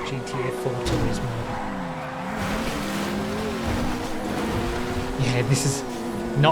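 In GTA FiveM, a GTA 4 Turismo sports car drives with its engine droning and shifting in pitch, while short tire squeals cut in repeatedly over a steady roar.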